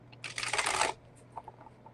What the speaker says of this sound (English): Maybe I'm a little rough on shuffling